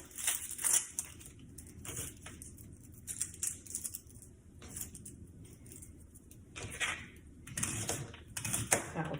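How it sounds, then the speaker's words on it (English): A knife peels and chops a shallot on a cutting board, giving scattered soft crisp cuts and taps at an irregular pace, quiet and close with no talking. "I'm going to chop my onion. You can just dice it. This is a shallot that I'm using"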